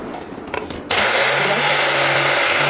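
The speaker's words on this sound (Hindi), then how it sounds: "इसको डाल के हम दोबारा साथ में पीस लेंगे इसको 50 ग्राम पुदीना" An electric grinder grinds dried mint with salt: a few light clicks, then the motor suddenly starts and holds a loud, steady whirring grind to the end.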